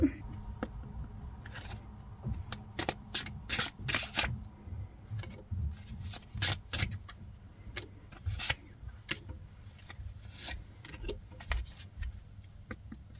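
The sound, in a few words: shuffling tarot cards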